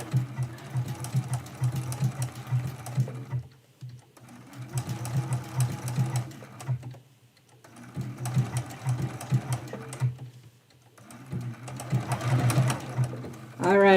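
A sewing machine stitches a quilt in four steady runs of a few seconds each, separated by short pauses, with a person talking over the stitching throughout.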